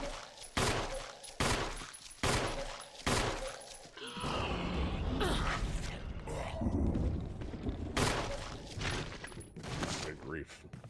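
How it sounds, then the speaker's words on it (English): Gunshots in Resident Evil sound in a loud, evenly spaced series of sharp blasts, then break into a chaotic stretch of clattering noise before more single shots follow. "What am I shooting at?"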